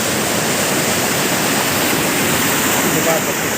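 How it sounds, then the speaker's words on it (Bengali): Steady rush of flowing water beside a Shiva temple, a loud, continuous broadband wash with no breaks, close to the listener. "জল যাচ্ছে"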